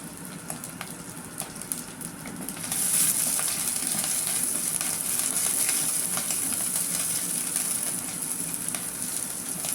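Chopped shallots, green chillies and garlic hit hot oil in a pan, a steady loud sizzle that jumps up sharply after a quieter start and then holds a bright, continuous hiss with faint stirring clatter.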